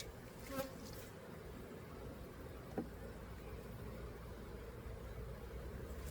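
Honey bees at a beehive hum in a continuous, even buzz close by, with a couple of faint brief knocks and no voices.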